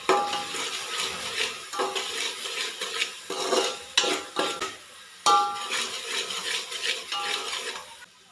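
A spoon stirs and scrapes chilli powder and spices roasting in a pan for Kolhapuri-style street pav bhaji, giving repeated uneven strokes and clinks with a faint sizzle and short pauses between them.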